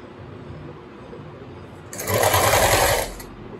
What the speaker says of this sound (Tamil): அந்த எட்ஜில் தான் ஸ்டிச் பண்ண போகிறேன்.